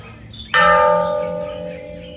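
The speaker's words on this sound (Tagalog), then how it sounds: "Our bell of happiness." A single struck bell of happiness at Mount Faber Peak in Singapore rings out with a sharp, bright attack, then a clear sustained tone that slowly fades, close and loud with no talking over it.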